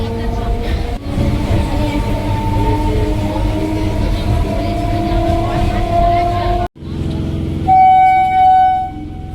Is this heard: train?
yes